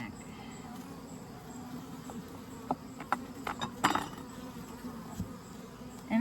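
Honey bees hum steadily inside an open Layens horizontal hive during an August inspection, a soft continuous buzz with a few brief knocks and clicks of frames being handled.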